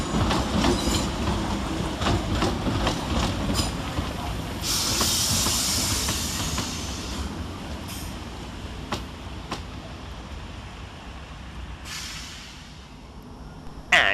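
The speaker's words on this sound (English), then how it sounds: "next up is 769 450, working the 1334 Northern service from Southport to Alderley Edge via Stockport" A Class 769 Northern train at Manchester Oxford Road station, heard as continuous rumble, hiss and wheel clatter from passing carriages, moderately close and steady throughout with no speech.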